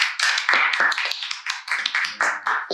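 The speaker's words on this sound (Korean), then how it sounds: "자, 박수!" A small audience at a beginner acoustic guitar class gives a sparse round of clapping, with distinct separate claps and taps in an irregular patter, close and fairly soft.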